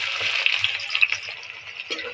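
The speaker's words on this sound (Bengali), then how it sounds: "নেড়ে চেড়ে পেঁয়াজটা লাল করে ভেজে নেবো।" Chopped onions with whole garam masala frying in hot oil in a kadai, a steady close sizzle with light stirring scrapes and a faint low voice in the background.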